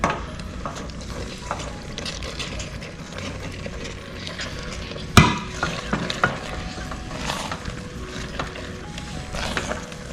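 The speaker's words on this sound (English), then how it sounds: "Add some of our mushrooms." Mushrooms for a risotto sizzle in a pan as they are stirred, a steady soft frying hiss with scraping and clinking of a utensil, and one sharp clack partway through.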